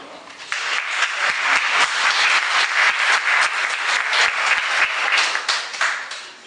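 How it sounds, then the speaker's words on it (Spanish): Sustained applause from a seminar audience, steady and full for several seconds before tapering slightly. "yo creo que una vez un aplauso, ¿no?"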